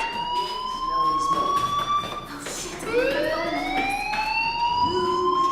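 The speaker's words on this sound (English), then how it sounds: "do you hear that fire alarm? That means you should be outside." A school fire alarm in the video game Life is Strange wails as a repeating electronic siren with sweeping pitch, loud and continuous, briefly dipping and then climbing again.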